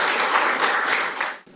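An audience at a National Assembly forum, a ceremony for training maritime officers, claps in a dense, loud burst of applause that holds steady and then tapers off abruptly at the end.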